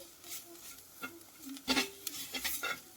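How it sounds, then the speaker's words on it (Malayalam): Spice powders being stirred in a pan for Vaikom-style pork roast give soft scraping and scratching strokes against the metal, with a faint sizzle underneath and a few short bursts of spoon-on-pan contact. "ശരിക്കും നന്നായിട്ട് അതിൻ്റെ പച്ചമണം മാറുന്നവരെ ഇളക്കി കൊടുത്തുകൊണ്ടിരിക്കണം"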